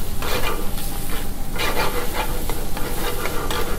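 Ginger, garlic and green chili paste stirred into spicy restaurant-style tawa chicken on a hot pan, a loud continuous sizzle with rhythmic scraping strokes from the spatula, no talking.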